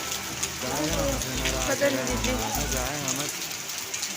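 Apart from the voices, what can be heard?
heavy rain falling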